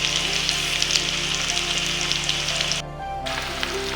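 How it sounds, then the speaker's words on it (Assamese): Onions fry in oil in a home kitchen for a village-style Assamese mutton curry, a dense, continuous crackling sizzle close to the pan that briefly dips before resuming under a low hum; no speech. "এয়া মই ধুনীয়াকৈ ভাজি আছোঁ।"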